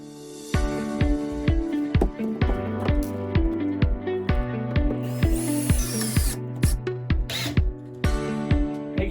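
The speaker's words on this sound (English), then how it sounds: "I'm going to install it in the hole and screw it into place so that I have a nice backing." A power drill driving a screw through drywall into baseboard backing set in a wall hole, heard as a steady run of close, clicking, ratcheting bursts with short whines and pauses, no talking.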